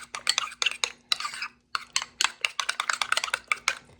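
A spoon stirs strawberry flavoring into yogurt, making quick, irregular clinks and scrapes against the bowl in close, rapid bursts with one brief pause.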